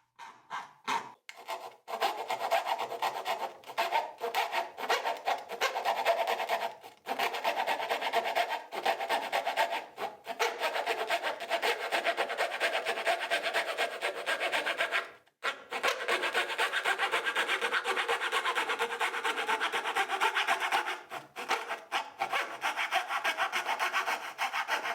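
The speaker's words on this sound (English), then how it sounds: "Here I smooth the cut with a file." Steady back-and-forth rasping of a file smoothing a coping saw cut in plywood, near and continuous with a few brief pauses, no talk.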